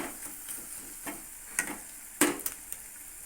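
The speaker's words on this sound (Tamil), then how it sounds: "இந்த கலவையை நல்லா கலந்து விட்டுட்டு இந்த மசாலா வந்து நல்லா இந்த தக்காளி வெங்காயத்தோடு நல்லா இறங்கிடணும்" Masala with tomato and onion for egg thokku is stirred and fried in a pan: soft scraping strokes and a clear clink over a low, steady sizzle, heard close and without talking.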